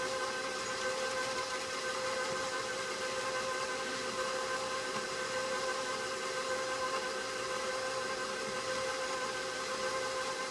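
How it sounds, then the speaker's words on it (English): An electric kitchen mixer runs steadily while mixing pie crust dough, a continuous near whirring hum with no pauses and no talk over it. "because then the people wouldn't have to just sit and hear the mixer"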